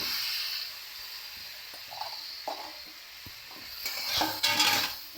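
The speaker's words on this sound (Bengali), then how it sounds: "একটু নাড়বো" Potatoes frying with tomatoes in a pan are stirred, giving faint scraping and spatula taps over a soft, steady sizzle that grows a little louder near the end.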